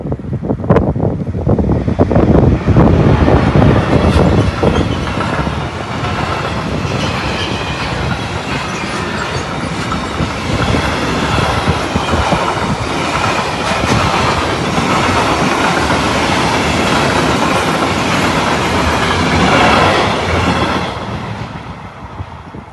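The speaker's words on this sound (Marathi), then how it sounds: "आता ट्रेन येईल, बघू शकता तुम्ही। आता इथली ट्रेन बघा।" A train rushes past a lowered level-crossing gate at a village in Denmark, very loud and close, a continuous roar of wheels and rattling cars with heavy wind buffeting over the whole pass, no talking.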